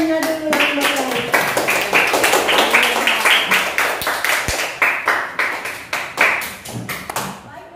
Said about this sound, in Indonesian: Coba tepuk tangannya dulu yang baik.